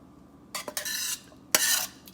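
Sautéed vegetables for an oyster mushroom and vegetable coconut curry being scraped from a pan into a pot, heard as a few short bursts of metal utensil scraping against cookware, with a longer rasping scrape near the end.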